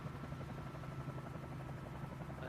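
Helicopter rotor and engine drone at steady loudness, a continuous thudding blade chop over a low hum throughout, heard from inside or near the aircraft with no speech.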